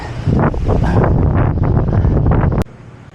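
Strong, blustery wind buffets the microphone of a cyclist climbing a steep, cool mountain road near Masungi, Baras, Rizal, roaring loudly and steadily before cutting off abruptly near the end.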